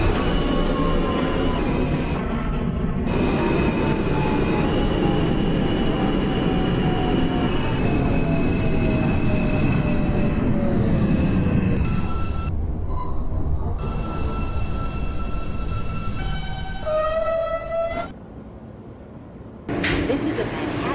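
A video-game subway train, a Manhattan-bound J local, rumbles steadily with high metallic wheel squeals rising and fading over the roar, close and loud throughout.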